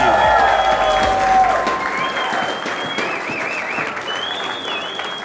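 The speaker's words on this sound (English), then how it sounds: "A big round of applause for each one of" Loud sustained audience applause at a company's first-anniversary celebration in Seattle, a dense wash of clapping from a large crowd with a few whistles rising over it, fading slightly toward the end.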